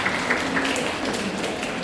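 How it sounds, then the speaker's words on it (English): Applause from a room of participants at a National Education Day session, a steady dense patter of many hands clapping with no talk over it. "A big round of applause for all the friends."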